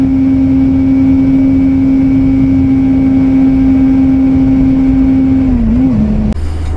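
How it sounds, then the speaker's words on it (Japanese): A Suzuki GSR400 motorcycle engine runs at high rpm with a loud, steady high-pitched whine, dipping slightly before cutting off near the end. "1万回転あたりまでエンジンを回すと、ふわーっていう高めのエンジン音とともにとても強い加速を体験できます"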